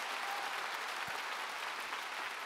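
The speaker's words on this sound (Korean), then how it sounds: "박수 치려면 치고 말려면 말고" An audience at a church revival meeting in a gymnastics arena claps together in a steady, dense roar of applause that carries on at even loudness throughout.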